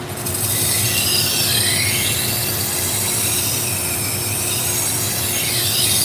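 A knife blade is sharpened on a sharpening stone, raising a burr along the edge; a loud, close, unbroken scraping rasp runs the whole time with a faint high ringing note, and nobody speaks.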